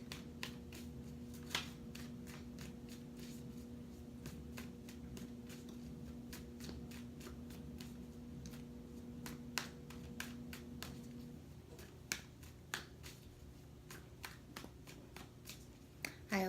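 Tarot cards being shuffled repeatedly, a steady riffling patter with sharp snaps and taps, close by, over a low constant hum.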